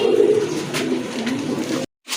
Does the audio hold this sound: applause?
no